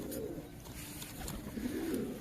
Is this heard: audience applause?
no